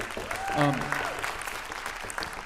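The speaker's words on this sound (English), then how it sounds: "please give Chris another round of applause." Audience at a university jazz concert applauding, a short sustained round of clapping under a voice speaking.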